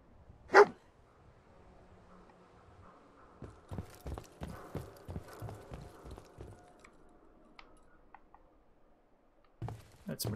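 Dogmeat, the companion dog in Fallout 4, lets out a sharp bark near the start and another near the end, with a run of evenly spaced thuds like footsteps in between, all close against a quiet game background.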